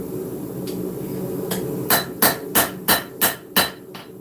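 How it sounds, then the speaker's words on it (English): Hammer blows on hot steel over an anvil while forging an integral bolster knife, several sharp ringing strikes in a steady rhythm after a couple of lighter taps, loud and close against a low background hum. "We're doing the same thing where I said you hammer on the bolster itself and shift it over."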